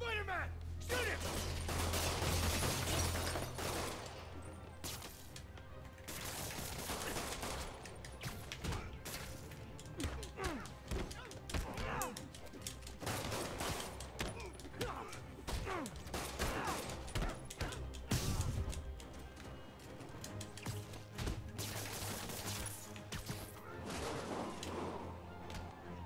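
Thugs fire guns in a Spider-Man video game, with bursts of rapid shots, thuds and crashes that come repeatedly and loudly, mixed with game voices talking.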